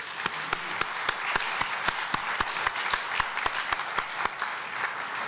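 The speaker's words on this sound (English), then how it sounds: "let's applaud that" Audience applause at an LGBTQ interfaith gathering in Hampton Roads, a steady wash of clapping with a few sharper, evenly spaced claps standing out, moderately loud and continuous throughout.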